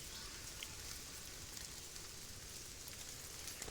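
Light rain patters steadily and evenly, a soft continuous hiss of fine drops with no other sounds.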